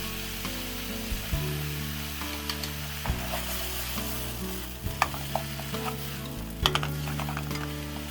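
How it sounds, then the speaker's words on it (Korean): Mushrooms and porcini sautéing in extra virgin olive oil over high heat in a wide pan, a steady loud sizzle with occasional scraping and stirring knocks. "포르치니 버섯도 물기 제거해주고 같이 넣어서 볶아줍니다."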